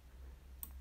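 Two quick, faint computer mouse clicks near the end of a quiet moment while working in PowerPoint, with no talk.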